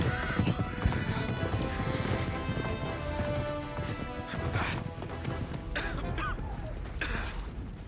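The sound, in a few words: horse galloping in Uncharted 3 video game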